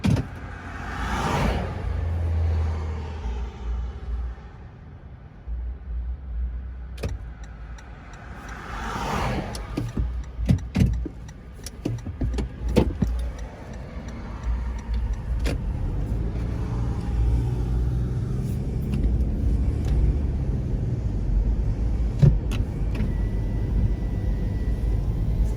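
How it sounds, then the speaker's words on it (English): A car drives home early in the morning, a steady low engine and road rumble that carries throughout, with occasional sharp clicks and knocks and a rise in noise toward the end. "So I'll take a little drive to where I live."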